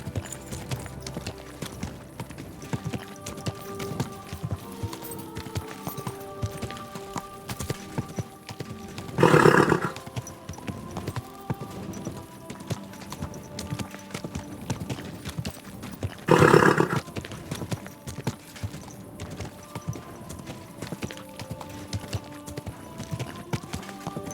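Horse hooves clip-clop at a steady walking pace throughout in the video game Kingdom Come: Deliverance 2, with two brief louder bursts and a low tonal hum in the background.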